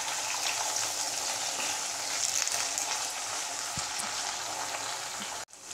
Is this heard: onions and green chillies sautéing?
yes